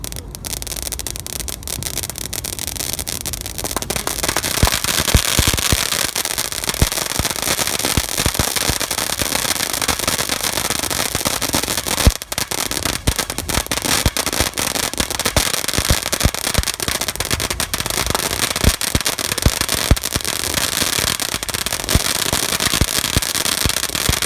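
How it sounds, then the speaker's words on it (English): Backyard fireworks go off in a long crackling barrage, dense rapid pops and sizzles close by that keep going for over twenty seconds with a few louder bangs. "We had a great time lighting fireworks"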